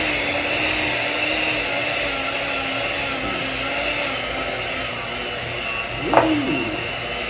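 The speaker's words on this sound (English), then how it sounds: "so I have started just before I turn the mixer on. Ooh, I'm going to turn it on low." An electric mixer runs on low through banana bread batter, a loud, even motor whine that holds steady throughout with a brief knock near the end.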